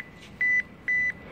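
An RFID inventory scanner in a store gives two clear, loud electronic beeps, each lasting about a fifth of a second, separated by a short gap over quiet room tone.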